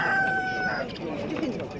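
A rooster crows once, a rising then held call, followed by clucking and murmuring voices in the background at a poultry market in Proszowice, Poland.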